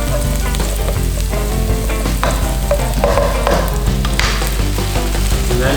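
Ingredients for Thai stir-fried fermented sour pork with egg sizzle loudly and steadily in a hot pan, with continuous frying crackle and occasional stirring scrapes throughout.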